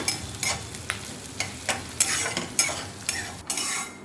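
Onions sautéing in a pan for upma, a steady sizzle broken by regular sharp scrapes and clatters of a spoon stirring against the metal about twice a second, close and loud with no voices.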